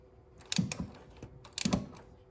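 A fitting being tightened on the master cylinder of a 1974 Chevy Nova, two short bursts of close metallic clicking and ratcheting, quiet and alone.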